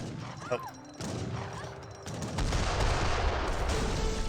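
Mortar fire in an Age of Empires 3 battle between Inca and Chinese armies lands as heavy booming impacts over a dense rumble of combat, with a commentator's voice briefly heard early on.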